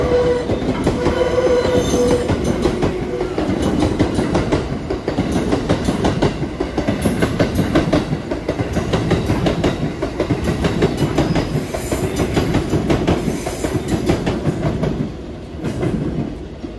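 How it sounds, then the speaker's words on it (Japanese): A JR Kyushu train pulls out of a station, its wheels clattering and squealing over the rails in a loud, rolling rhythm that swells and eases as the cars pass close by. "新塚行きの発車です。ドアが閉まります。"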